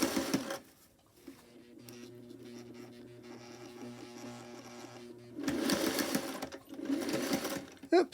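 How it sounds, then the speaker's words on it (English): Sewing machine stitching slowly over a thick seam of a 16-inch envelope-style pillow cover, a steady mechanical whir with rapid needle clatter in two bursts, separated by handling rustle and brief quiet moments. "Just go slow on your machine. I'll sew right over that."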